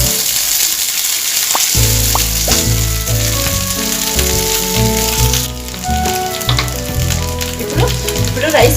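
Cooked, cooled rice frying in a pan with cumin and curry leaves gives a loud, continuous sizzle and crackle, close up and steady, with a few stirring sounds under it and no talk.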